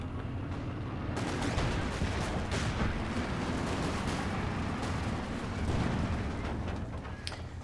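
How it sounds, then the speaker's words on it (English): Muffled distant booms and crackling gunfire roll on steadily in a Company of Heroes 2 battle, where mortar fire comes from a mortar pit, a dense, moderately loud wash of explosions without speech. "Facing off against a mortar pit now as well. Which is probably going to cover the central VP quite effectively."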